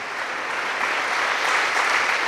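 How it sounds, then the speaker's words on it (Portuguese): A church congregation at a Portuguese-language faith convention seminar applauds, a steady, dense wash of clapping filling the whole moment at even loudness, with no voices standing out. "Uma salva de palmas para Jesus"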